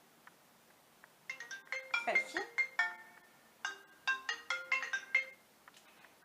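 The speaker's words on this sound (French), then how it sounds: "quand on a un iPhone, on a pratiquement tous la même sonnerie" Default iPhone ringtone playing from a phone, its bright marimba-like notes repeating in quick rhythmic bursts at moderate loudness, with a short spoken word at the start.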